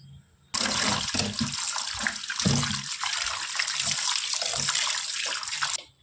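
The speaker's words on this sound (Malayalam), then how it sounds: "നമുക്കിനി ചിക്കൻ വാഷ് ചെയ്തെടുക്കാം." Raw chicken is rinsed under a running kitchen tap for a biryani, a steady loud gush of water with splashing and dull knocks of the meat, starting abruptly and cutting off near the end.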